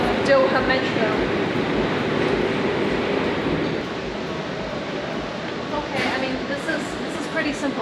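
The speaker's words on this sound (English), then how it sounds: "The grand reveal of Doha Metro." A Doha Metro train in Qatar, a loud broadband rush of rolling rail noise that eases slightly midway, with a few sharp clanks near the end and voices mixed in.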